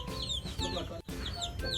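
A hen clucking on a farm in Phitsanulok after eggs are collected, with a run of close, fairly soft rhythmic clucks and throaty calls that pause briefly midway and then resume.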